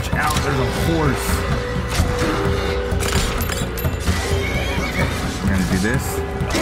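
A horse whinnies amid a busy battle din in the modded video game Skyrim, with shouting voices and clashing noise throughout; the neigh rises clearly once or twice over the mix.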